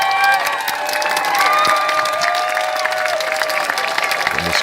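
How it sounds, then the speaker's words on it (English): A crowd at a Defend Our Juries protest breaks into a round of applause, with dense clapping mixed with raised voices and whistle-like calls, all fairly loud and close. "this was just a round of applause"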